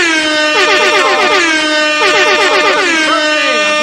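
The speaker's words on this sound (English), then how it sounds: "We about to give multiple air horns." Several blaring air horns sound in quick overlapping bursts, loud and close, with sliding pitches repeating twice in a row.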